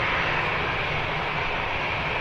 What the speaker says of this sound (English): Ryanair heading out to Paris Beauvais